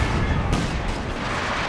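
Anti-tank guns firing in Company of Heroes 2, a loud booming shot mid-clip with a rumbling battle din around it.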